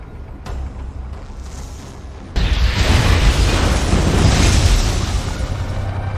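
A large explosion from a StarCraft II Zerg cinematic as the Protoss/Terran Eradicator is destroyed: a quieter lead-in, then a sudden loud, sustained rumbling blast that stays heavy and dense to the end.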